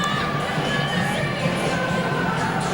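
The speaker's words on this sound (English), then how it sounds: "The Warrington players have seen that on the big screen, and they are applauding." A rugby league crowd at a 2003 Warrington versus St Helens match keeps up a continuous roar of cheering and shouting, loud and steady throughout, with no distinct individual claps standing out.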